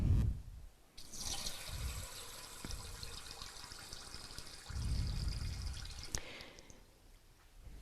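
Water poured into a glass jar of mung beans, a bright steady splashing stream lasting several seconds with low rumbling thuds at the start and end, close and alone with no talking.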